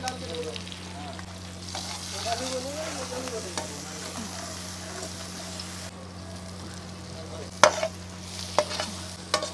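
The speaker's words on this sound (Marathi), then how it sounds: "आलू लसूण पेस्ट टाकते हा चांगलं भाजून घ्यायचं टमॅटो टाकते" Ginger-garlic paste and tomato frying in a pan over a wood-fired stove: a steady close sizzle with scraping stirs, sharp clinks of the spoon near the end, and a low hum underneath.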